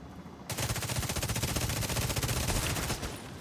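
Automated turrets firing in a video game: a loud, rapid, unbroken burst of automatic gunfire begins abruptly and runs for about two and a half seconds, then cuts off.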